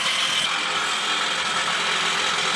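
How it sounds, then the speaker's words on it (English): An electric jackhammer rattles continuously and loudly at an excavation site, a dense, fast mechanical chatter with no pauses. "As you hear the electric jackhammer"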